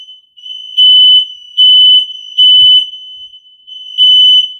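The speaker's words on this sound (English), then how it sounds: "some alarms goes on" A fire alarm sounds indoors with loud, piercing high-pitched electronic beeps in a steady pattern of four long tones separated by short gaps, each one sharp and close, with nothing else heard.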